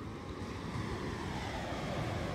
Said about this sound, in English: That's the ocean right there.